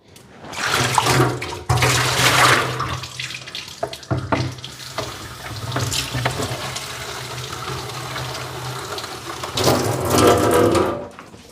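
Water filling a bucket in a home kitchen, a rushing pour that starts and stops in several bursts, strongest at the beginning and end, with a low hum and scattered knocks in between.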